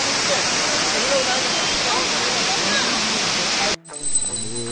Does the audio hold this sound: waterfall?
yes